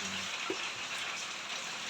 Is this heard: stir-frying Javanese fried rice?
no